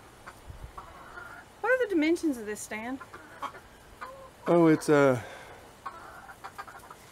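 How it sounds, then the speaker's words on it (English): Backyard chickens in their coop give two clear bursts of clucking, one near the start and another about halfway through, with people talking in between. "So here we are in the chicken coop,"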